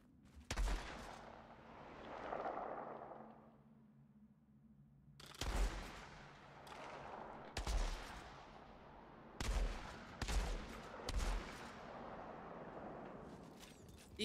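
Gunfire from the Outriders video game with a Pyromancer character: sharp, loud shots crack out at intervals, a single burst early and then several more in a cluster toward the end, over a steady hum of game ambience.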